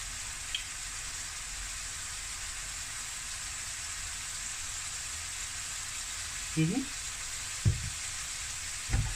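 Firecracker kimchi stew with meatballs, tofu and a little sesame oil cooking in a pan, a constant close sizzle with a few short low bumps and a brief voice near the end.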